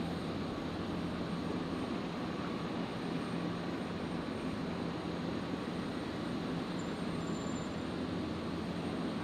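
QantasLink Dash 8-400 turboprop arriving from Rockhampton, heard as a steady, fairly faint engine drone with a low propeller hum at an airport, holding at a constant level throughout with no voices.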